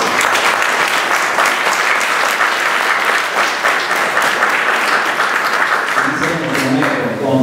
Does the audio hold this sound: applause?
yes